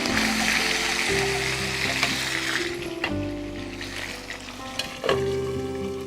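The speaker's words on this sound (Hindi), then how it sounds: "और हरी मिर्च का पेस्ट, इसे हमें फ्राई करना है।" Green chili paste fries in a pan with a steady, close sizzle throughout, a low rumbling hiss under shifting spoon or pan movements, with a few sharper knocks near the end.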